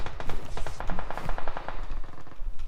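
Rapid automatic gunfire in the PUBG Mobile video game, rattling bursts of shots fired at close range, dense and loud throughout.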